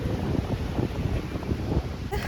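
A speed boat running on the sea off Kovalam beach in hot sun, a steady distant wash of motor and water blended with strong wind buffeting the microphone.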